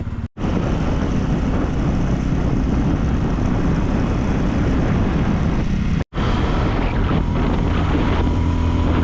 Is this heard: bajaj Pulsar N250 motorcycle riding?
yes